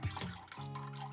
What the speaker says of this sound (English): We're just going to drain some of the water off the cucumber because it's very, very watery.